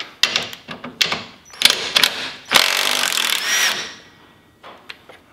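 Power tool loosening a seatbelt bolt on a Can-Am Maverick X3, several short bursts and one sustained whirring run, close and loud, then quiet with a couple of small clicks.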